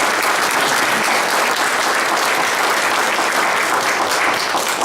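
An audience applauds senators at a bill signing for an illegal immigration law, with Governor Nikki Haley present: thick, continuous clapping, loud and even from start to finish, with no speech over it.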